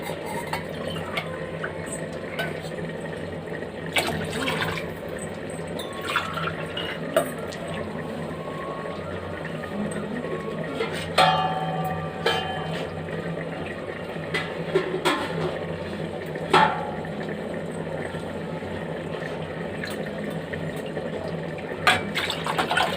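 Four glasses of water are poured steadily into a pot for vegetable pulao, a continuous soft splashing trickle with occasional light clinks, fairly quiet and without talk.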